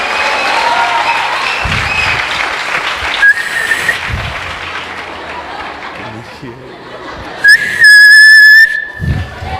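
A church congregation whistles and claps during a sermon, with sharp shrill whistles rising above continuous applause, chatter and laughter, while a loud voice carries over the crowd.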